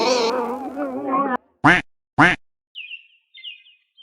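Ducks in a film give two loud, abrupt quacks, well spaced, right after a stretch of voice. Faint, high bird chirps follow.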